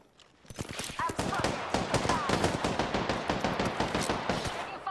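Rapid, loud gunfire from the video game Apex Legends, with dense bursts of automatic shots and overlapping impacts continuing nearly nonstop after a brief quiet start.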